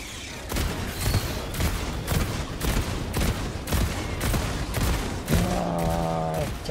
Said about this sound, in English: Look at all those shots getting pumped into this ball boy.